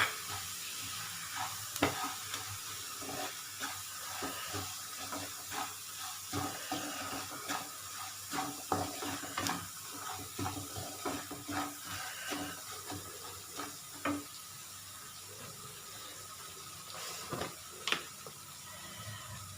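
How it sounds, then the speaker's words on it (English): Coccinia (kundru) with coarsely ground urad dal powder frying in a pan: a faint, steady sizzle with soft crackles and intermittent scraping stirs throughout, quiet and close, with no talk. "We'll let it fry again for 2 minutes at least."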